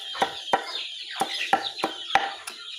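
Several chickens cluck close by in short, sharp bursts, a busy irregular run of clucks with a quieter background of birds, in a rural Philippine yard.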